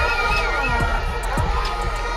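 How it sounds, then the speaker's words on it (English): A stadium crowd at a Jamaica versus Haiti football match in the National Stadium chanting and cheering after a goal, a dense, steady roar of many voices with shouts rising above it. "We have one back and the crowd chanting goal"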